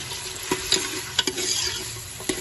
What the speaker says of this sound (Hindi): अब इसमें हमने यहाँ पे प्याज डाल दिए, मसाला भुनना जी